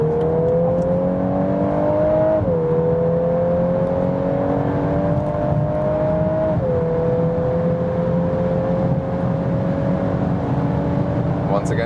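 VW Golf R in Nürburgring mode pulling hard from about 80 km/h out of a tunnel, a steady engine note climbing through each gear with two brief dips at the shifts, heard from inside the cabin.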